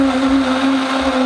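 A blender running at steady high speed, mixing a thin oat flour bread batter, with a loud, even whirring hum throughout.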